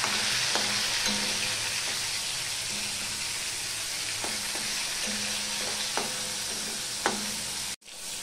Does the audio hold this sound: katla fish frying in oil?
yes